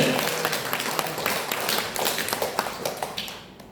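A church congregation breaks into applause, many hands clapping in a quick, sharp patter at moderate distance that tapers off and fades toward the close.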